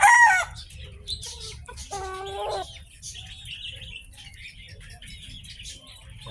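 A Gilmore Hatch gamecock rooster on a game farm gives close, loud clucks and a short crowing burst, followed by softer chirps and clucks from other birds over a steady low rumble; no one speaks.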